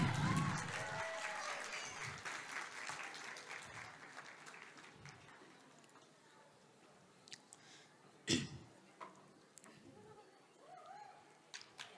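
Faint, scattered clapping rises from an audience at an Onam 2025 contest for participant number 14. It is heard at a distance under low room murmur, with a short cat-like cry near the start and a sharper clap burst later.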